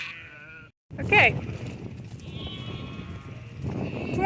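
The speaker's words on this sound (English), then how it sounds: "Here, sheep!" Katahdin hair sheep bleat while being moved to summer pasture: one long wavering bleat, then a brief gap, then a sharp higher cry, over a steady rumble of flock and outdoor noise with a voice calling.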